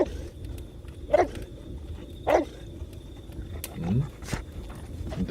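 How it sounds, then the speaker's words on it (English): A dog barks in a cluttered workshop, giving three or four sharp, fairly loud barks spaced about a second apart over a steady low background rumble. "Why are you barking?"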